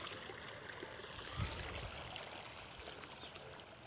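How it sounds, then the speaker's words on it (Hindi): Rainwater drains steadily through a pipe fitting during a downpour, a continuous close trickling and gurgling flow with a brief louder splash midway and no talking. "ये पानी जो है आ रहा है और निकल रहा है"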